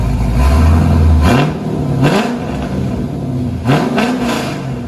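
A 2000 Chevy Corvette with a 5.7L LS1 V8, dual exhaust, long-tube headers and Magnaflow axle-back revs loudly up close: a steady idle, then three sharp throttle blips that flare and fall back.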